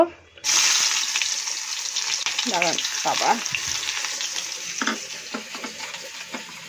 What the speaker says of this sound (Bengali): এখানে মাছের ঝাল হচ্ছে